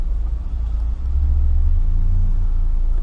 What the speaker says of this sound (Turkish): Şimdi aracımı tekrar istop edeceğim ve tekrar çalıştıracağım